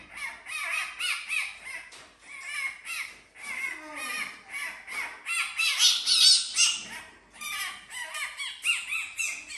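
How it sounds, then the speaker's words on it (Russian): Shrill, repeated squeaks and squeals from a fox, a continuous run of high-pitched cries close by with short breaks between bursts. "Все думают, что жалко лисичку, она пищит"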